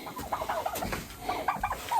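Chickens cluck softly and intermittently inside a portable coop, several short, fairly close calls in a quiet setting with no talking.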